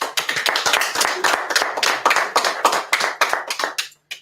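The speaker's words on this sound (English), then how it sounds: "Mr. Clarence Gunn and Mr. John Yasutake, I think you deserve a round of applause" An audience at a state legislative candidates' debate claps steadily for a few seconds, a dense patter of hands that thins out and stops.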